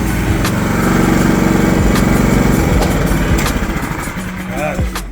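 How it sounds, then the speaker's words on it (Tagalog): A Philking 4200 inverter silent generator hums with a steady, close engine drone, then is switched off by hand and winds down, its pitch sliding lower and its loudness fading over the last couple of seconds. "i-manual off din natin itong generator"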